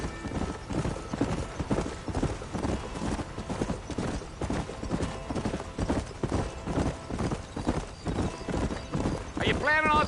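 Horse hooves gallop in steady rapid clip-clop beats in the Western video game Red Dead Redemption, with a whinny near the end and character dialogue running over the hoofbeats throughout.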